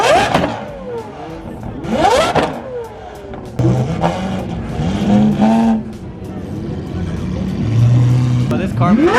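A McLaren Senna GTR race car at a JDM car meet revs hard in repeated rising and falling engine sweeps, loud and close, with people talking and crowd noise around it.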